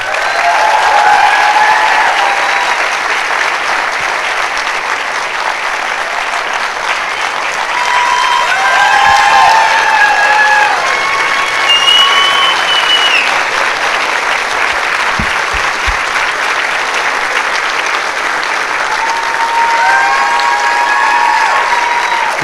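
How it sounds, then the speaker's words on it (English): Sustained applause fills a school district staff recognition event as a crowd claps loudly and continuously for an honored employee, the dense clapping holding steady for over twenty seconds with faint whoops and background voices mixed in. "let's give her a round of applause as well"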